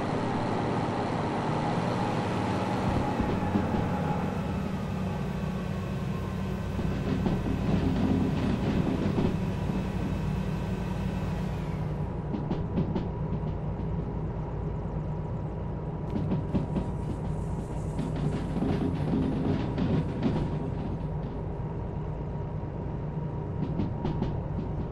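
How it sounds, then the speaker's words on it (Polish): Train wheels clacking over rail joints in the game Derail Valley, a steady rolling rumble with faint rhythmic clicks that continues throughout, no talking. "Stukotuków tu jest. Naprawdę. Fajnie to słychać."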